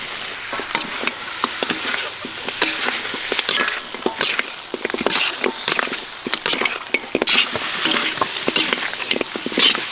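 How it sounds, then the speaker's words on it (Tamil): Nalli pepper fry is stirred in a hot pan after cumin and pepper powder go in, a steady sizzle broken by scraping stirs and soft pattering, close and continuous with no voices. "இப்போ 10 கிராம் ஜீரகத்தூள், 10 கிராம் மிளகுத்தூள் இதுங்களை போட்டு கிளறி இறக்கிடலாம்"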